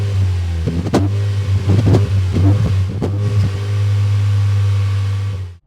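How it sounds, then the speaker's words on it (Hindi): Tata Safari/Harrier petrol engine idling steadily after start, a deep continuous exhaust drone with a couple of brief sharper blips, loud and close, with no talking. "पहले आप एग्जॉस्ट साउंड सुनिए और साथ में देखिए जब हम इंजन को स्टार्ट करते हैं तो किस तरीके की आवाज़ आती है"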